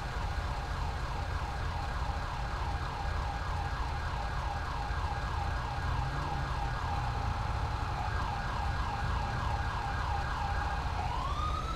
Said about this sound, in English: And the ambulance is coming in